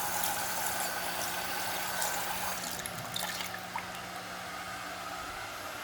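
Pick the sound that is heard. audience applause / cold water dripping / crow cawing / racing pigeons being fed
cold water dripping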